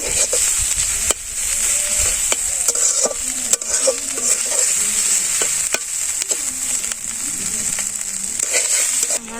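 Grated coconut sizzles in a hot pan for a coconut hilsa dish, stirred with repeated scraping strokes of a spoon at an uneven rhythm over a continuous frying hiss, close and fairly loud.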